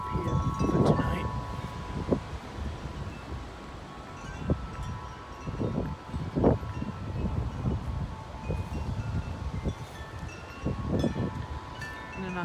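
Strong wind gusts roar and buffet the microphone on a stormy night before a storm, surging in several loud broadband bursts over a steady rushing background; a faint chime-like ringing tone lingers throughout.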